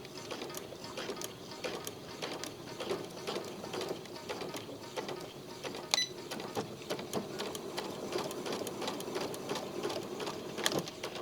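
A sewing machine stitches a trouser waistband with a long stitch, running steadily up close with a continuous fast mechanical chatter and a couple of small clicks, no voices.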